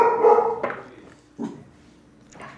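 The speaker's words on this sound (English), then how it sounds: "Your dogs trigger one another." Dogs bark indoors, several loud, sharp barks spaced irregularly, close by, with a whimpering edge to the first.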